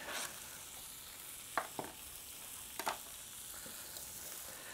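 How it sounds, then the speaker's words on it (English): Onions frying in a pan on a camp stove outdoors, a faint steady sizzle with two short spatula stirs partway through, with no talk. "Chuck my onions in there."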